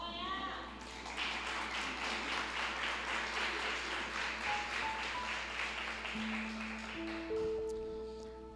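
A church congregation bursts into sustained applause and clapping, a dense, loud patter that swells and carries on for several seconds with a voice speaking over it and faint tones near the end.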